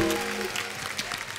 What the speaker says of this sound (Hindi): नीतू जी के लिए जोरदार तालियां।